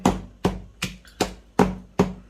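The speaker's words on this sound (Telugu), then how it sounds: "అవి మెత్తగా దంచుకోవాలండి." Ginger, green chillies and salt pounded finely for chekkalu snack dough produce six heavy, evenly spaced thuds close by, each striking hard and decaying quickly before the next, with no voices.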